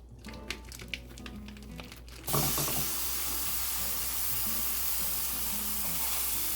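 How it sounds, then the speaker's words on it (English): Ground beef dropped into a pan of hot oil bursts into a loud, steady sizzle that holds unbroken, after a brief stretch of quiet kitchen clatter. "I have about a tablespoon of oil that's been heating in this pan. So I'm just going to dump in my ground beef."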